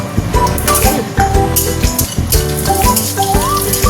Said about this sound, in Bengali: এই যে যে কাজু কিশমিশটা, এইটা আমি এখানে ঘি একটু ভেজে নিচ্ছি